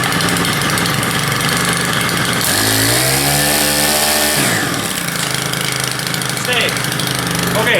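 A two-stroke string trimmer engine runs loud and close, revving up into a sustained high whine for a couple of seconds before dropping back to a rough, rattling idle.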